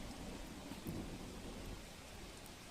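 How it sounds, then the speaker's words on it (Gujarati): Heavy early-morning rain pours down in Vapi, Gujarat, in a dense, continuous hiss, with a low thunder rumble rolling underneath. "વાપીમાં પણ વહેલી સવારે વરસાદ સાંબેલાધાર વરસી રહ્યો છે"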